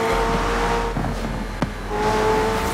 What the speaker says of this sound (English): this is the McLaren Senna actually implemented in the game, which has a nice rasp to it